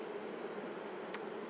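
Honey bees humming inside a foundationless Flow Hive brood box, a soft steady buzz with a brief brighter flicker near the end as one flies close.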